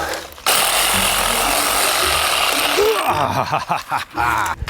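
A Craftsman V20 cordless reciprocating saw cuts through sago palm with a loud, rasping buzz that starts abruptly, holds steady, then breaks up into uneven bursts and stops near the end, with a voice faintly audible.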